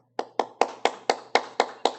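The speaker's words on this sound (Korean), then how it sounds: "박수." Applause in a church during a Wednesday evening worship service: eight sharp, evenly spaced claps of a small group, fairly close, with no talking over them.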